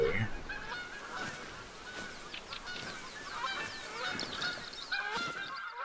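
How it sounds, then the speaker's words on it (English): Geese honk repeatedly at a distance in open countryside at dusk, a loose flock calling in overlapping bursts over faint outdoor ambience, with no talking. "There's a little roe deer down there, more geese."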